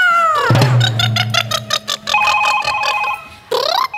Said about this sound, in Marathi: म्हातारी बाई तुमचा फोन वाजतोय